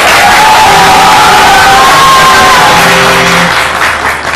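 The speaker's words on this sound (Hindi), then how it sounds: "एक बार फिर मेरे बैंड के लिए बहुत सारी तालियां।" A morning TV show's studio crowd claps and cheers loudly for the house band, a dense roar of applause with whoops and drawn-out shouts riding on top.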